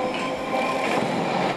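A high-speed train in Derby, in England's East Midlands, rolls past as a steady, loud rushing roar with a faint rail rumble underneath, continuous throughout with no talk.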